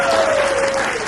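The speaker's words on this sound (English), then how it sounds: "How about a big round of applause for our dancers over here who did a great job dancing." Audience applause for dancers at a murder mystery stage show, a dense, steady wash of clapping throughout with a faint sustained tone running beneath it.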